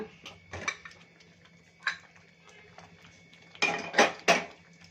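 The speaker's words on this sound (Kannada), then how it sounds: "ಕುಕ್ಕರ್ ಓಪನ್ ಮಾಡೋಣ." A pressure cooker of millet bisi bele bath is opened in a home kitchen: a few sharp metallic clanks and scrapes of the lid and pot, separated by short pauses, close by.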